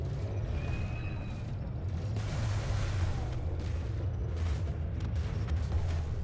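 A deep, rumbling blast as a target ship is destroyed in the space combat game Elite Dangerous, low booming roar lasting several seconds with crackling debris, fairly faint and steady with no speech.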